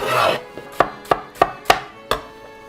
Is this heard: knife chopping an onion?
yes